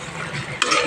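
Small mourola fish coated in spices fry in a pan with a steady close sizzle, broken near the end by a brief metallic clink of a utensil; no one speaks.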